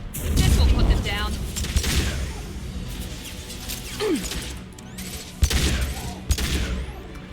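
Gunfire and impacts in Mass Effect 2 combat, with dense rattling bursts early on, then a quieter stretch and a few sharp, loud shots and crashes near the end, mixed with game effects and a voice talking.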